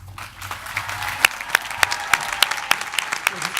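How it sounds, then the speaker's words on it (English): Audience applause at a Middlesex University honorary degree ceremony for actress Rebecca Front, a sustained crowd clapping with several sharper individual claps standing out near the microphone. "Wait for the applause to die down."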